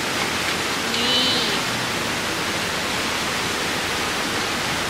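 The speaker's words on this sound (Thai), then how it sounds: "อาจจะได้ยินเสียงน้ำตกดังหน่อยนะคะเพราะว่าเรานั่งข้างน้ำตกเลย" Loud waterfall roaring right beside an outdoor dining spot near Bo Kluea and Doi Sakad in Nan, Thailand: a steady, dense rush of falling water, close and continuous, with no other sounds standing out.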